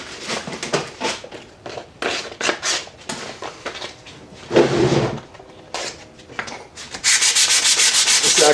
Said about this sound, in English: Plenty of sandpaper here.